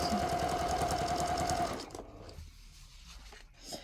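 Sewing machine stitching bias binding onto a fabric Christmas advent calendar panel, running in a fast steady mechanical whir for under two seconds before stopping, followed by quiet handling noises.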